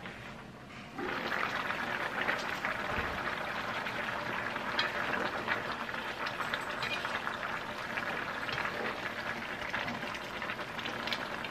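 Beef rib soup with cabbage simmers in a pot, giving a steady, soft bubbling hiss that holds evenly at low volume from start to finish.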